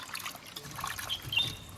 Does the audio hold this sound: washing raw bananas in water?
yes